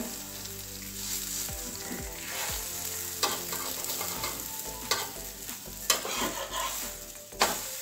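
A vegetable paratha with tomato pieces fries in oil in a pan, sizzling steadily up close, with sharp clicks and scraping stir sounds breaking through at intervals.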